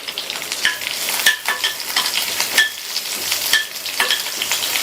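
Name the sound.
curry leaves, garlic and dried chillies sautéing in oil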